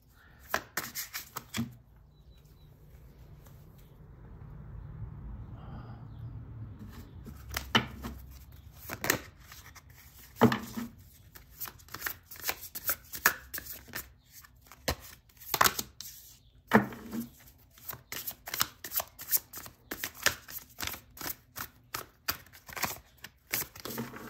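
Tarot cards being shuffled and handled in a quiet room: a run of crisp, irregular riffling clicks and slaps, some grouped in quick bursts, fairly close and alone.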